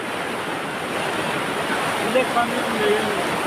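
Heavy rain pours steadily over an outdoor cattle market in Sylhet as a dense, continuous wash of broadband noise, with a few faint, brief sounds surfacing near the end.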